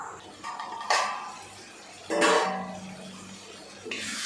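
A metal lid clanks onto a pot of Pallipalayam chicken gravy with a couple of sharp clinks, followed by soft kitchen clatter and a faint simmering hiss.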